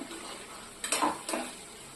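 Raw banana or brinjal being stirred in a pan, a few soft scraping and clattering strokes near the middle of a quiet stretch, close and moderately loud over faint background hiss.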